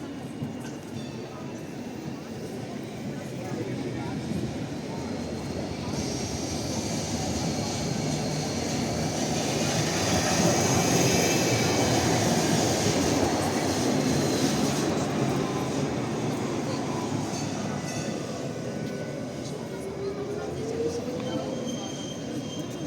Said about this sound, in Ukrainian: Зараз ми побачимо сирний трамвайчик. До нас під'їжджає.